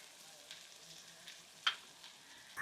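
Onions and green chillies sautéing in oil for an egg fritter curry, a faint, steady sizzle with a few soft clicks of a utensil near the end.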